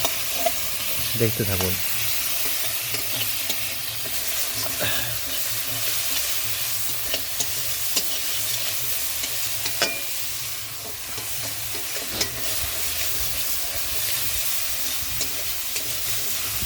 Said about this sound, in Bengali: এবার আমি টমেটোটা দিয়ে দেবো, তারপরে মশলাটা একটু কষাবো।